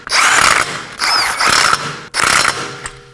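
Ratchet clicking as it tightens the front sway bar link nuts on a 2020-2027 Toyota Corolla, three bursts of rapid close, loud pawl ticks with short pauses between strokes.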